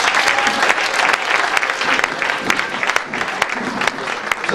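A church congregation claps loudly and continuously, dense uneven applause with crowd noise mixed in, close and sustained for several seconds.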